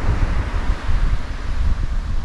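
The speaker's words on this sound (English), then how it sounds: "But it is quite windy." Strong wind buffets the microphone in loud, gusty low rumbles at a New Zealand fishing and camping spot, continuous and close, with no voices.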